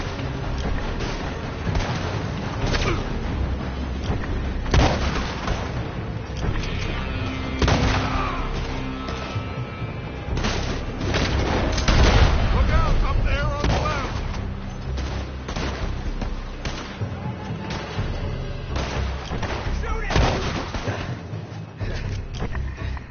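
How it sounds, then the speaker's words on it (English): Gunfire from a building in Red Dead Redemption 2, repeated shots and booms layered over a dense, continuous battle mix with music-like tones, steady and loud for the whole stretch. "They're shooting from that building."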